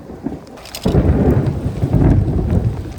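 Thunder from very close lightning crashes in as a sudden loud boom after a quiet moment, then rumbles on heavily with a second swell, over a bed of rain in Colorado.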